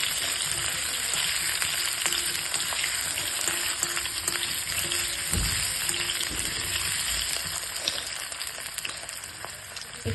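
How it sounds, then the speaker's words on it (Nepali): Potatoes fry with asafoetida for a Nepali masaura curry, giving a steady, close crackling sizzle with occasional stirring knocks and scrapes. "अनि त्यसपछि अहिले प्याज नहाल्ने, आलु फ्राई गर्नुपर्छ नि त, त्यही भएर प्लस आलु हालिदिने"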